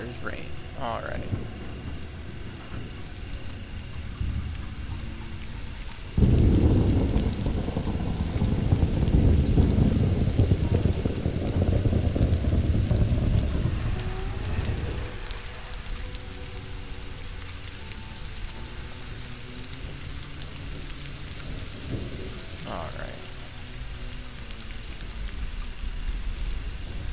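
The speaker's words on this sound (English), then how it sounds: "And then there's rain." Rain falls in the survival game Stranded: Alien Dawn, a steady hiss that swells into a heavy, louder downpour for about ten seconds before easing back, while a person talks over it at times.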